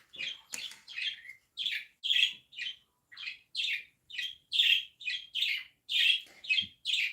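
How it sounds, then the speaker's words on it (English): Pet birds chirping indoors in a steady run of bright, close tweets and short calls, repeating every half second or so with no talk over them. "my birds are now talking"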